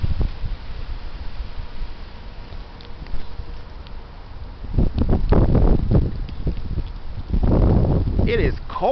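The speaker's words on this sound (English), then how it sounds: "Here it comes. The heavy wind." Strong outdoor wind gusting in cold weather, rumbling against the microphone in buffeting surges that swell louder toward the end, with a person talking over it.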